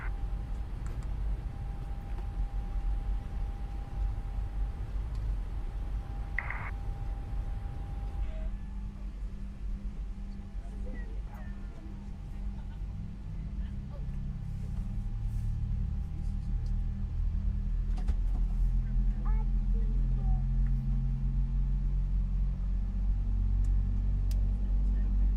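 A Boeing 777-300ER engine starts up in Microsoft Flight Simulator with an add-on sound pack, a steady cockpit hum giving way to a deepening low rumble and rising whine that builds gradually over the full length, with faint clicks scattered through.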